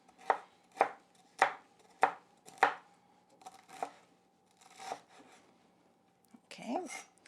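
A knife chops broccoli florets into small pieces on a board: about five crisp, evenly spaced cuts, then softer scattered scraping strokes and a brief faint voice at the end, all close and fairly quiet.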